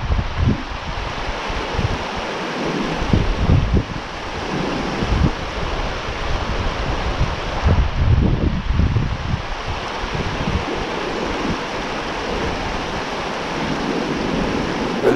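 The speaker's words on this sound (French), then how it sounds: "j'ai un vent contre moi là, c'est pas facile." Gusty wind buffets a microphone at a riverside during a late-afternoon trout-fishing outing, a steady loud roar with rushing swells throughout and no talking.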